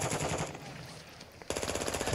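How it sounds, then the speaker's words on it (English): Rapid automatic gunfire in the video game Call of Duty DMZ, loud bursts of repeated shots in the first half second, a quieter lull, then a sudden return to dense rattling fire. "Taking effective fire."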